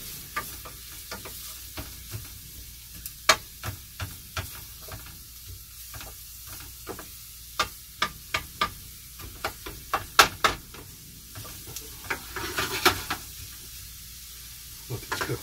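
Diced onion coated in oil sizzles in a pan with a steady, close hiss, punctuated by sharp clicks and knocks of a utensil stirring at irregular intervals; no one speaks.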